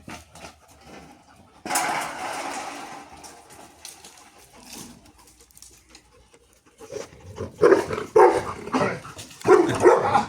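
Two dogs, Bruce and Whisky, bark at their own reflection in a mirror, giving sharp, uneven bursts of barking mixed with panting and whimpers, loudest in clustered barks toward the end, close by.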